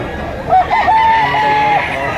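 A White Kelson gamecock, an eight-month-old rooster held in a man's hands, lets out one clear crow lasting just over a second. It sounds close and loud while people talk nearby.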